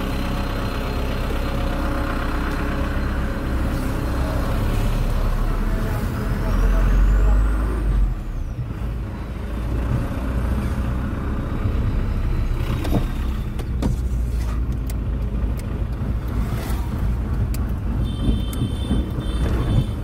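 A car drives along with a steady engine rumble and road noise, a brief louder surge midway, and faint hissing and clunks near the end.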